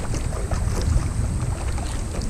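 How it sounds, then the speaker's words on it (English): Gusty wind buffets the microphone on a small boat cruising a river, a heavy low rumble with steady broadband rushing and no voices. "It's kinda windy."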